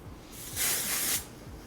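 One short hissing burst of hair spray from an aerosol can, close by, rising out of a steady background hum and cutting off cleanly.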